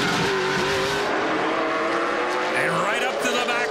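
NASCAR Pinty's Series stock cars race through the Grand Prix of Toronto street circuit, their engines roaring loudly and continuously with rising and falling pitch as the cars accelerate past.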